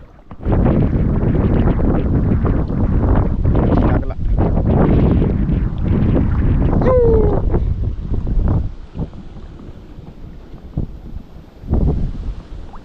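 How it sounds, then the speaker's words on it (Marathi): Strong wind buffets a fishing boat during traditional Konkan coastal fishing, a loud steady roar that gusts for about nine seconds, drops to a quieter rush, then briefly swells again. "वारा मित्रांनो लय"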